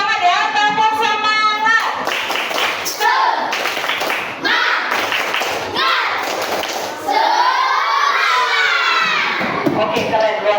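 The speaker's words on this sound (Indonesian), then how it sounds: "untuk dua kelompok kita tepuk semangat ya, tepuk semangat" Schoolchildren in a coding class perform the 'tepuk semangat' chant, with loud rhythmic clapping and thumps in patterned bursts alternating with shouted sung phrases, close and energetic, and a few cheers mixed in.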